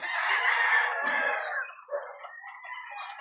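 A rooster crows loudly and close by, one long drawn-out call, followed by softer clucking and fowl sounds.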